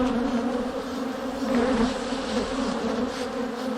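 Bees fly around the periscope entrance and landing board of a top bar beehive, making a steady close buzzing drone that holds even and continuous throughout.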